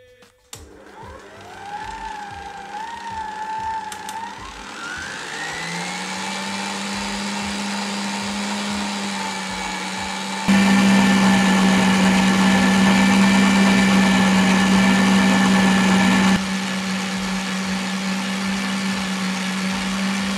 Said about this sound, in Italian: Ora andiamo a montare la nostra panna.